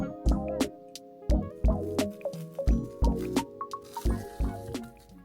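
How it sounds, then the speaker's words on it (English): Leftover pudding mixture poured into a small glass, heard as close, wet drips and soft squishy glugs in a rhythm of repeated bursts, with no talking. "I'm gonna pour the leftover into this cute little glass."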